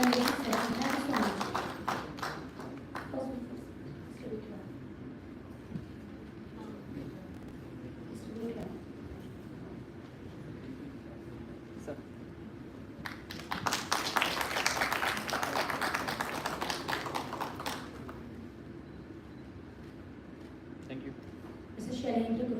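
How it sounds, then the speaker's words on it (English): An audience at an AI and analytics summit and award event applauds its guest speakers. A brief patter of claps opens the clip, a fuller burst of applause swells midway for several seconds, and a voice speaks over the hall between them. "a huge round of applause for the entire team of guest speakers"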